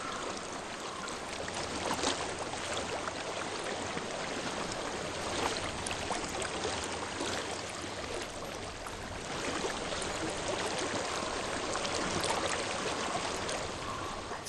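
Flowing water rushes steadily in the fantasy game Hellblade: Senua's Sacrifice, a broad continuous splashing stream that stays close and fairly loud with gentle swells, no talk.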